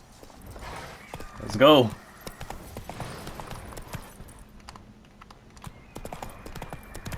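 Hoofbeats of Geralt's horse Roach galloping in The Witcher 3, a steady clip-clop running under a short spoken line and a brief whinny-like burst near the start, with game ambience around it.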